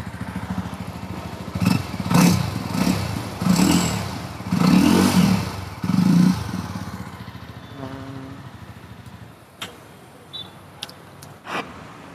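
A 2021 Jawa 42 BS6 motorcycle exhaust: several loud, throaty revs in quick bursts, then the engine drops back to a low, lumpy idle with occasional sharp ticks and clicks nearby.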